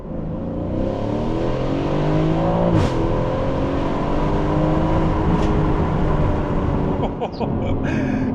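Aston Martin supercar engine revving hard while driving, a loud continuous roar with rising and falling pitch sweeps, a sharp shift blip near three seconds and brief crackle near the end.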